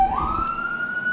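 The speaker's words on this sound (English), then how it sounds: "Sorry if you can hear the sirens." A loud emergency siren wails with a rising, sweeping pitch, heard close and clear for about a second over low traffic rumble.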